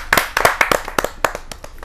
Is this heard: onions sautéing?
no